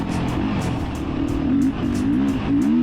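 The engine of a Beta 390RR enduro motorcycle drones loudly and steadily while ridden, its pitch rising and falling gently with throttle changes.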